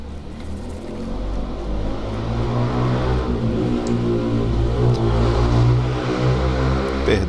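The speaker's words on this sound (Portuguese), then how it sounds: "Perdão aí pelo barulho da moto." A steady, loud engine drone runs throughout, low and rumbling like an idling or slowly revving motorcycle close by.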